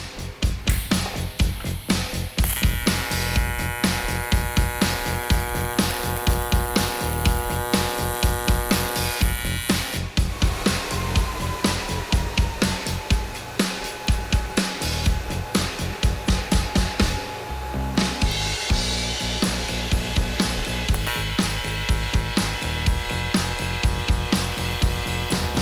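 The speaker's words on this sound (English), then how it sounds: "I'm just going to tack the outside corners first. Then I'm going to come back and weld the longer sides." Tack welding along the outside corners of a fuel cell enclosure in a garage, a continuous close crackling buzz running throughout with brief breaks and changes in texture.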